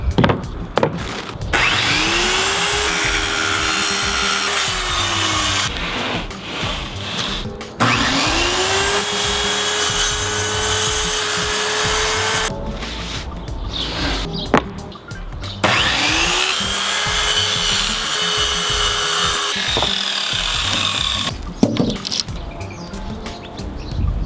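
A power saw whines and cuts into wooden subfloor for a tiny house in three long plunge cuts, each a steady loud buzz with a rising and falling tone, separated by short pauses.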